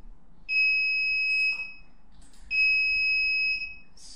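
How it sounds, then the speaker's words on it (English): A motion-detection alarm buzzer on a Longse DVR/NVR sounds two steady high-pitched electronic tones, each about one second long, separated by a short pause, loud and close against a quiet background. "if I move, you can hear the alarm go off"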